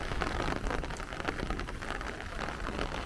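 Heavy downpour from a thunderstorm in Brooklyn, New York, a dense, steady hiss of rain pounding surfaces with no voices and no clear thunder.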